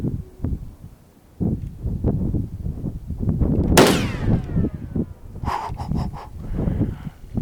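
A 300 Win Mag rifle fires once at a steel brake plate outdoors, a single sharp loud blast with a short ringing tail, set among low rumbling wind and rustling.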